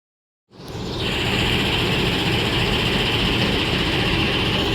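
A loud, steady rumble rises suddenly from silence as an Indonesian passenger train departs a station, a heavy locomotive droning continuously close by with a hissing high layer.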